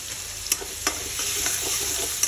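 Chopped onions frying in a pan for egg curry, a continuous close sizzle broken by a few sharp spatula stirs and scrapes.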